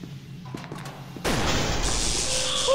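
A grenade goes off in a video game, a sudden loud blast at about a second in followed by a sustained roar and rumble, after a few faint clicks and knocks.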